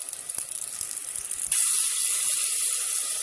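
Tomato paste and onions sizzle and fry in a pot, a steady close hiss that jumps louder partway through as the frying intensifies, with a few faint clinks early on and no talk.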